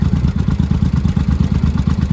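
A cold barn-find motorcycle from 1982–83, Yamaha Maxim 750 or Honda Shadow, runs at a raised idle with the choke eased down. It makes a near, loud, evenly pulsing drone, uninterrupted and with no talk.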